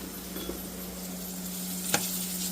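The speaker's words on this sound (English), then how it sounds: "what we're frying them in is pretty much olive oil and Old Bay seasoning" Steady sizzling of fish frying in olive oil with Old Bay seasoning in a pan, close and continuous, with a brief sharp clatter near the end.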